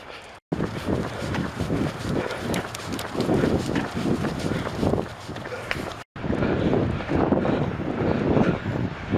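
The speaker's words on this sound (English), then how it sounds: "You can probably hear the wind." Outdoor wind noise rushes steadily across the microphone during a winter running outing in snow, with rhythmic footfalls pounding beneath it and a brief dropout partway through.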